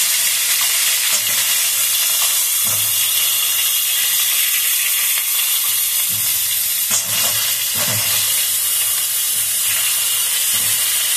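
Cauliflower and potato pieces fry in oil with a loud, steady sizzle throughout, and the pan is stirred now and then.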